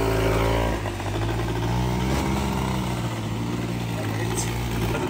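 Old 50 cc-class scooter engine running steadily right after its first kick start, a loud, close, continuous two-stroke buzz with slight wavering in pitch, no talk over it.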